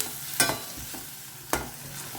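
Toor dal being stirred into onions fried on a low flame, with two sharp scrapes of a spoon against the pan over a soft, steady sizzle.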